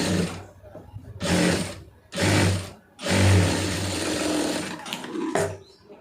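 A domestic sewing machine stitches fabric in four separate runs, short bursts of close mechanical whirring separated by pauses, the last run longer and ending with a few light clicks.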